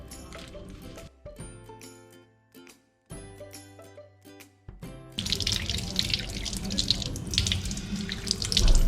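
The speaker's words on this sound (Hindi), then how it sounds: "अच्छी तरीके से 20 सेकंड तक हाथ धोएं।" Hands being washed under a running sink tap, with clinks and splashes leading into a loud, steady rush of water that builds toward the end.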